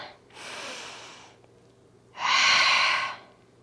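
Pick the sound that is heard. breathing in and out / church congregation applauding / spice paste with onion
breathing in and out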